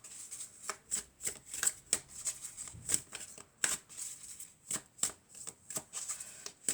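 A deck of oracle cards being shuffled close up, a rapid series of crisp riffling and slapping bursts in an uneven rhythm, no talk.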